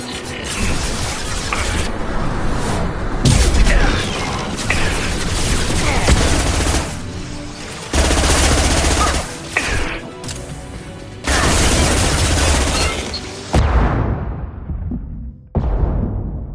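Dense, sustained bursts of gunfire and crashing combat effects in the video game Mass Effect 2: Legendary Edition, loud and continuous with brief lulls, cutting off sharply near the end.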